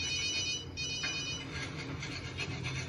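A telephone ringtone plays through a scene in a TV spy drama, a steady electronic ringing tone heard alone at moderate level with no talk over it.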